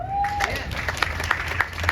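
An audience at a community organization event breaks into scattered applause, a handful of distinct claps rising out of a brief tone and room murmur.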